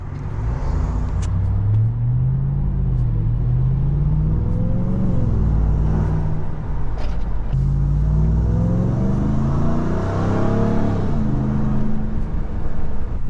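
Inside a BMW M with the windows cracked, a constant engine drone carries a whine that rises and falls with acceleration, steady and close with no talk.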